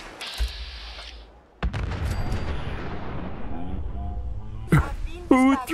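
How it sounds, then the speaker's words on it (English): A Nuka grenade goes off in Fallout 4 with a sudden loud blast, followed by a long, dense rumble that lingers for several seconds before sharper game sounds break in near the end. "Who threw the grenade?"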